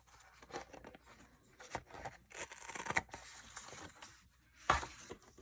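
Paper being cut with scissors while working on a Classic Happy Planner spread, a few close, soft snips and rustles spaced irregularly, with a sharper crisp cut near the end; no voices.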